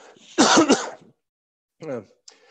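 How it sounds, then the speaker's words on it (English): A single harsh, forceful cough bursts out close by, followed after a pause by a brief voiced sound and a faint click. "Excuse me, I'm going to cough."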